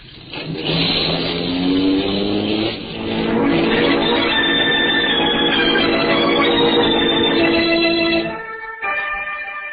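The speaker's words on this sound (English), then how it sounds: "I stepped on the gas and drove off." Car engine revving up and accelerating away as a radio drama sound effect, a loud rising whine through gear changes that holds high and then cuts off abruptly near the end.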